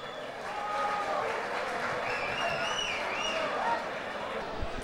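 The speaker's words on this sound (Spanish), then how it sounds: "Un aplauso." Crowd applause at an MMA fighting championship event, a steady wash of clapping and hubbub that holds for several seconds with scattered voices and whistles over it.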